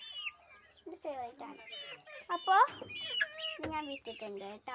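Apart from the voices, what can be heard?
chickens clucking in a coop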